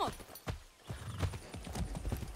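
A horse gallops in the video game Far Cry 6, its hooves sounding a quick, uneven clip-clop rhythm up close, with a short whinny at the start.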